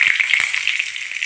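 Jackfruit frying in hot oil with plenty of mustard seeds and curry leaves, a bright steady sizzle with a few soft stirring knocks, close and loud.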